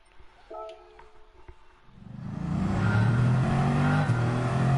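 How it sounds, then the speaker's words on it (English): A race car engine starts low and then swells into a loud, sustained revving roar that holds steady, with a steady harmonic drone and no talking over it. "I can hear the car"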